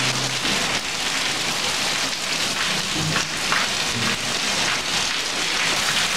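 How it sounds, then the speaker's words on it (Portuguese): Loud, heavy, windy rain drums steadily on surfaces nearby, a dense constant roar with scattered louder drops and no talking. "Olha a chuva."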